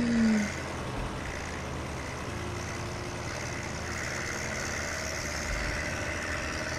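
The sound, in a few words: tractor engine straining, from a video game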